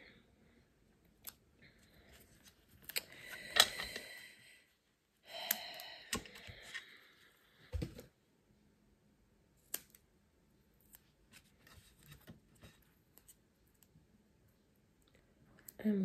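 Scissors snip through paper for a handmade Valentine's card, a few crisp close cuts in short bursts separated by quiet pauses, with small clicks and handling noises between them.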